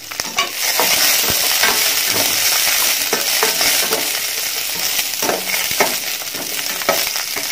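Nuts and raisins frying in ghee for oats payasam, a loud continuous sizzle close by with scraping stirring strokes throughout and no talking.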